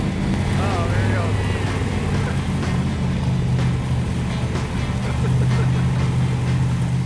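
A 1971 Plymouth 'Cuda with a 440 six-barrel V8 and 4-speed, running steadily with a deep, loud low rumble throughout, while people talk and chatter excitedly over it.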